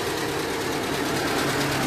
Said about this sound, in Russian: Вот, сейчас автомобиль работает на газу.